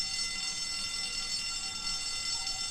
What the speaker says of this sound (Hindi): इसने फायर अलार्म बजा दिया है।